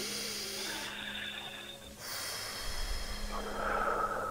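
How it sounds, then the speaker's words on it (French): A single slow, deep breath drawn in and let out close to the microphone, soft and airy with a slight nasal snort, alone and quiet. "Une respiration."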